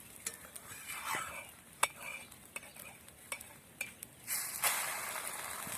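An egg pancake for anda bhurji is flipped on an oiled griddle, with metal spatula scrapes and clinks over a soft continuous sizzle, close and moderately quiet.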